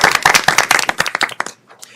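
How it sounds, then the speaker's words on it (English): Dense, lively audience applause at a full board meeting, many hands clapping close together for about a second and a half before quickly fading out. "we can give her a round of applause"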